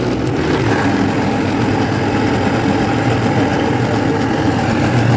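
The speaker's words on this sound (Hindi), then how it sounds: "जो चावल डाले थे उबाल के वो अब हम ग्राइंड कर रहे हैं।" An electric grinder churns boiled rice with milk for kheer, giving a loud, continuous motor whir with a dense, even texture and no pauses.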